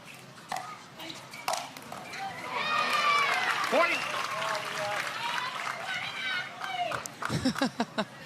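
Spectators at a Major League Pickleball match in Grand Rapids call out and cheer, a busy crowd murmur with brief applause and shouts, mixed with commentator talk and ball pings.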